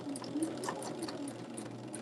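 A sewing machine stitches a batik quilt block for a double pinwheel design, burgundy fabric feeding first under the needle, giving a steady, quiet mechanical whir with faint rhythmic ticks throughout.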